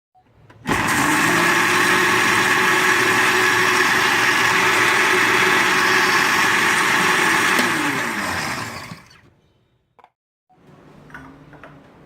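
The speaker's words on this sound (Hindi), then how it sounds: "ये सारी चीज़ें हमने डाल दी हैं और हम इसको ग्राइंड कर लेंगे।" A mixer grinder whirs loudly through chutney ingredients with tamarind pulp, water and oil, a steady high-pitched motor drone for about eight seconds that winds down and stops, followed by a short rattle of the jar.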